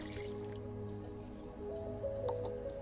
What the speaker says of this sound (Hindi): अब इसे हम अच्छे से पानी दे देंगे